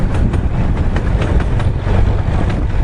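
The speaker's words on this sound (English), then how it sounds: "after we get off this exciting train ride" Train running on rails during a scenic ride, a loud steady rumble with faint repeated clacks and wind buffeting close to the microphone, and no voices.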